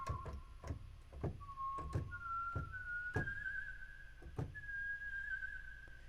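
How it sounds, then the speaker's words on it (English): A single recorded whistle note is mapped across keyboard keys and played back at stepped pitches, a few sustained tones rising higher. Soft thunks of the keys being pressed punctuate it, and the whole thing is faint and close. "is a recording of me whistling, and then I took that one note that I'm whistling and I mapped it out across all the keys"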